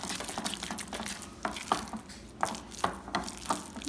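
Spoon stirring flour into a thick, starchy dough mixture for Antiguan ducana, with repeated soft scraping and wet slapping strokes in an irregular rhythm, close and moderately loud.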